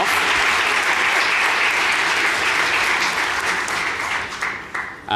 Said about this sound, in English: we should give a big round of applause to the Halifax Chamber